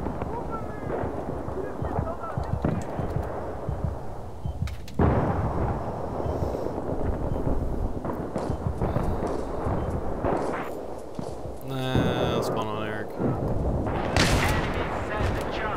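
Battlefield 3 gunfire on Strike at Karkand crackles in repeated bursts with booming blasts, loud and continuous, while players talk over the combat.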